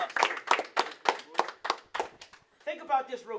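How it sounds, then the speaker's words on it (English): A high school wrestling team claps hands together in a steady rhythm, sharp evenly spaced claps mixed with chanting voices before a looser burst of sound at the end. "Clap it up, clap it up, clap it up,"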